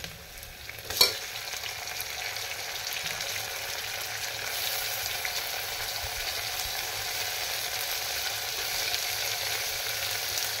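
Onions and tomato fry in a pan with a steady, dense sizzle, punctuated by a single clink of a utensil early on, and no voices over the cooking.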